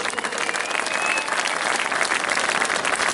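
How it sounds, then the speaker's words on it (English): Crowd applause at a Birmingham street march by the DFLA and Veterans Against Terrorism, a dense steady wash of many hands clapping outdoors, fairly loud and continuous with no talk over it. "Let's give them a round of applause."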